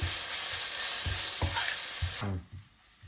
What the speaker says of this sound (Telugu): అల్లం వెల్లుల్లి పేస్ట్ పచ్చివాసన పోయేదాకా ఫ్రై చేసుకోవాలి